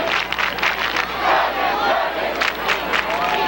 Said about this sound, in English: Good crowd on hand today on both sides of the field.